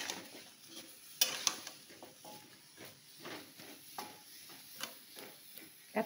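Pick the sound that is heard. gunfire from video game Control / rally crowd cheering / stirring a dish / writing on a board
stirring a dish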